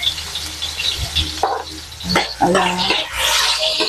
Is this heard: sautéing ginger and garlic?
yes